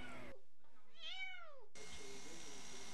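A cat held in a squeeze cage at a spay clinic lets out a single drawn-out, rising-and-falling meow, clear and close, bracketed by bursts of broadband noise.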